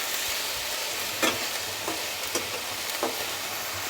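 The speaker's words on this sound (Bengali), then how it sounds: "পেঁয়াজটা ভালো ভাজা হলে খাওয়াটা ভালো লাগবে" Chopped onions frying slowly in oil for a fresh raw turmeric dish, a steady close sizzle with a few stirring scrapes and clinks of the spoon against the pan.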